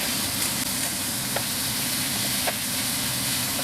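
Pork stir-frying over high heat with garlic and chili in a non-stick pan, a steady close sizzle and hiss with faint stirring clicks throughout.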